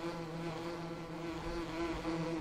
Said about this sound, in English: Swarms of bees.